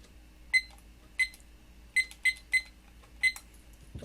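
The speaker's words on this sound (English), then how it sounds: "let me set my timer" A digital timer gives a series of short electronic beeps at uneven intervals as buttons are pressed, six or seven quick chirps over a quiet background.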